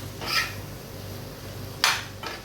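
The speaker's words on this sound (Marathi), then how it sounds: "आता झाकण घेऊन ठेवू" A metal lid set onto a cooking pot of Agri Koli-style kala fish curry with raw mango, giving two short clinking knocks over a low kitchen hum.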